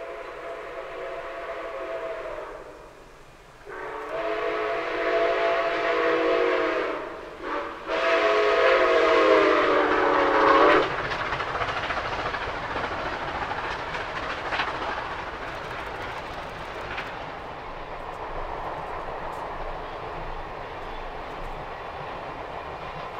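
Nickel Plate 765 steam locomotive pulling the Wabash Cannonball past a farm near Peru, Indiana, opening with a long multi-tone steam whistle blast, then a rumbling passing roar and clattering cars fading out.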